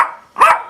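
A small dog gives one short, loud, close bark, preceded by a fading whine-like tail from an earlier sound.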